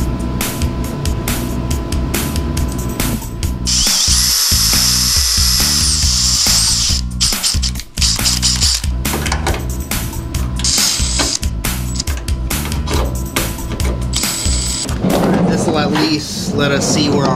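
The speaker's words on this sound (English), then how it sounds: "Inserting Torx unit." A power driver fitted with a Torx bit runs screws during work on a custom Astro Van door jamb, giving loud whirring and ratcheting bursts in several runs with short pauses between them.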